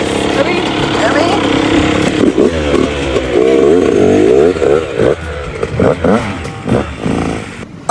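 Nearby motorcycle engine revving in a Philippine neighborhood, loud rising and falling throttle bursts with a rough, clattering tone that repeat unevenly, fading into shorter pulses toward the end.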